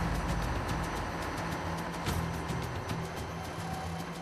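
A large ship's engine runs during its final inspection in a repair dock, giving a steady, dense mechanical rumble with a continuous low hum and faint rapid ticking throughout.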